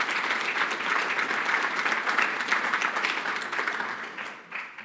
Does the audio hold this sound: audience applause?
yes